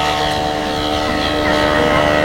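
Large petrol-engine radio-controlled model airplane with a 4.40 m wingspan, 70 kg weight and 320 cc engine flies overhead at an air show, its propeller drone loud and steady throughout.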